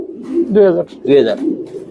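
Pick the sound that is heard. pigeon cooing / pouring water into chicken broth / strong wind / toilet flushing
pigeon cooing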